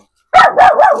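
Several pet dogs at a small house bark in quick succession, three loud, close barks running into one another with a slight whining edge, no talking over them.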